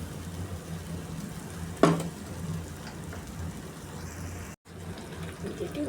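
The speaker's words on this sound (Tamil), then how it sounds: "மிக்சி கழுவி அதில் தண்ணியும் இதில் ஊற்றிக்கிறேன்" Water from a rinsed mixer jar splashes into a hot pan of ground masala for idli kurma with a brief burst, then a low steady sizzle and bubbling continues.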